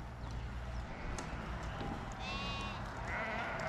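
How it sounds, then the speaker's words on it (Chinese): Sheep in rural Xinjiang come down to drink, giving a few near, wavering bleats over steady outdoor noise and a low rumble, with no talk. "绵羊啊，这种羊啊"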